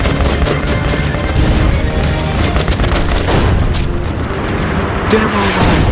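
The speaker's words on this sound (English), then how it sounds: "They threw a grenade at me!" Grenade blast and gunfire in Metro: Last Night, dense booming and rattling shots packed throughout, with people talking over the loud battle.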